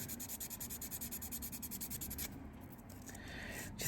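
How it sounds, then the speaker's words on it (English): A buffing block is rubbed over a fingernail in quick, even back-and-forth strokes that make a soft, close scratching rhythm, then stop and give way to quieter handling noise. "I'm gonna just run the buffing block over this"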